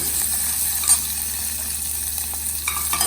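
Spices for a Gujarati vaghar sizzle and crackle in hot oil while being stirred, a steady bright hiss with a few spoon scrapes and pops, no voices.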